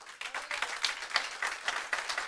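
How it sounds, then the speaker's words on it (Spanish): Audience clapping at a church show in Brownsville, Texas, a dense, moderately loud burst of many hands applauding together, steady throughout without voices on top. "Denle un aplauso a todas las maravillosas"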